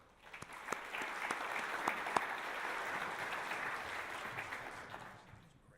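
At the 2016 AMOS Conference, an audience applauds to welcome keynote speaker Dr. Jordi Puig-Suari. The dense, sustained clapping has a few sharper claps early on, holds steady, then fades out near the end.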